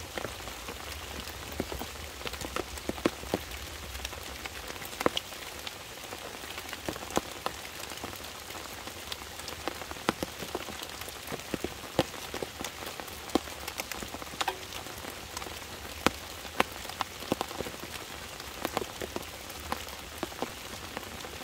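Heavy rain pours down on an ATV camp on a cool night, a steady dense patter with scattered louder drops striking nearby surfaces throughout, no voices.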